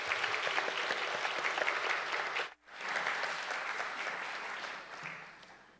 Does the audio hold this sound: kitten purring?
no